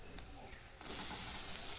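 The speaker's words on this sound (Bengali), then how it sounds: "কাঁচা লঙ্কাটা 2-1 মিনিট ভেজে দিয়ে দিয়েছি টমেটো কুচি।" Chopped green chilies, cut in fairly large pieces, fry in a pan of spiced oil for a Kashmiri chicken dish, giving a steady close sizzle that swells louder partway through, with a few faint stirring scrapes early on.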